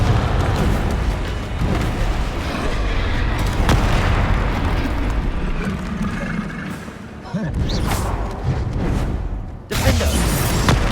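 Blasting-curse explosions from a Harry Potter video game, several heavy booms and bursts crashing loudly amid continuous battle noise, with a voice calling out spells over the action.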